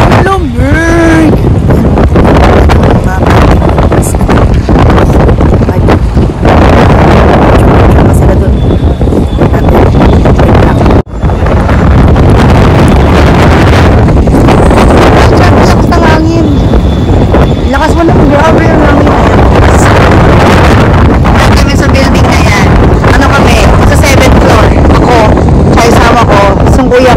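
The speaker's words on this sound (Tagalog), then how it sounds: "Lakas ng hangin!" Loud wind buffets the microphone in a constant roar outdoors in Japan, with a voice speaking Tagalog intermittently underneath and a brief dropout partway through.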